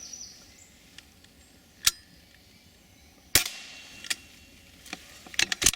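Sharp air rifle shots during squirrel pest control outdoors, a few brief cracks and snaps spaced apart over a quiet background, with a cluster of quicker clicks near the end.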